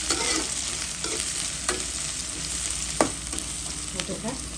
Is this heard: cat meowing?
no